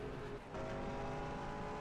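Race cars in the pits at Nelson Ledges Road Course in NR2003, with engines droning steadily and loudly and a brief dip in the noise partway through.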